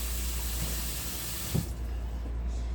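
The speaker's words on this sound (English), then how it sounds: "just rinse off the bottom of this here, because I don't want it to burn on there" Kitchen tap water rinsing the bottom of a cake pan, a steady close splashing hiss with a brief louder splash partway through, no voices.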